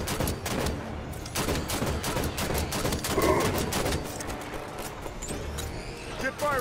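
Heavy gunfire in Halo 5: Guardians, rapid bursts and volleys hammering continuously alongside vehicle rumble and battle effects, with voices talking over the fight.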